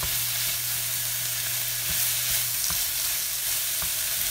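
Bok choy and shrimp fry together for Pad Thai in a hot pan, a continuous close sizzle broken by a few sharp clicks of stirring, with no voices.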